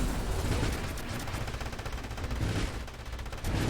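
Turrets firing in the Nova Drift space shooter game, a dense rapid stream of gunfire-like shots, loud and continuous over a few seconds.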